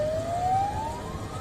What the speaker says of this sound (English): Sirens blared.